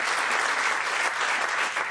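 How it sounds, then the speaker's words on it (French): Studio audience applause, a dense continuous patter of many hands clapping at steady loudness throughout, with no voices over it. "peut applaudir, hein, la Francesca"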